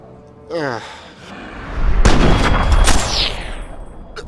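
Plasma rifle fire in Fallout 3 sounds as a loud sustained burst of energy-weapon shots and crackling blasts, following a brief whooshing sweep.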